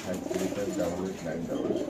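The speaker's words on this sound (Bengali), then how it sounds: "আজ চলে আসলাম আমাদের প্রাণপ্রিয় আদনান ভাইয়ের কবুতর লফটে।" Pigeons at a loft coo in soft, rolling bursts close by, with a voice talking over them through the short moment.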